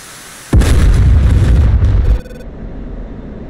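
A missile striking a search radar in the combat flight simulator DCS World, one sudden heavy explosion that roars loud for over a second, then cuts off to a quieter engine hum.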